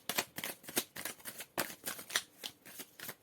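Tarot cards are shuffled and drawn by hand in a quick series of crisp riffling flicks and soft slaps, close and fairly quiet, with no voice over them.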